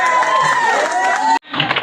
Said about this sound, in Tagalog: Salamat sa nakabibigay ng mga palakpak